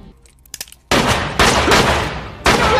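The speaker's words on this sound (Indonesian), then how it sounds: "Dengan pistol di tangannya, Percy menembak mati Wild Bill tanpa ragu." Gunfire from a pistol in a prison film scene sounds as a few faint clicks, then a sudden loud blast with a long reverberant tail, a second burst, and another sharp report near the end.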